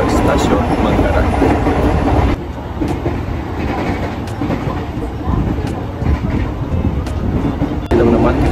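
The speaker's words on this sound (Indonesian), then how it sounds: "akhirnya kita sudah berada di dalam kereta KRL yang akan menuju ke stasiun Manggarai" Interior of a KRL commuter train running from Cibitung toward Manggarai station, a loud continuous rumble and rattle of carriage and rails with a shift in tone partway through, while a voice talks over it.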